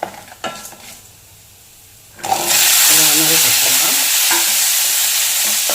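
Onion, tomato and garlic hit a hot pan with a sudden loud, sustained sizzle after a quiet opening of light clicks, while a spoon stirs and scrapes through the frying.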